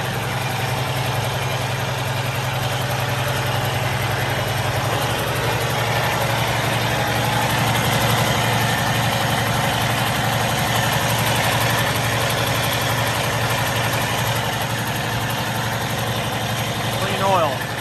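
A 2013 Freightliner Cascadia 125 truck with about 621,000 miles idles in a steady low diesel rumble with a constant hum, close and even, with someone talking over it.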